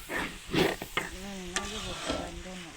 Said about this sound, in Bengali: খিচুড়ি রান্না হইতেছে আমাদের